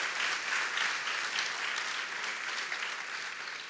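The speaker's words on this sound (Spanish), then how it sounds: "Sí, aplaudan." A church congregation gives a burst of applause, dense continuous clapping from many hands that tapers slightly toward the end.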